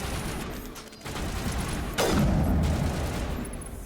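Heavy gunfire from big guns during a firefight in the video game Mass Effect, a steady loud barrage that swells sharply about halfway through and stays dense with no voices over it.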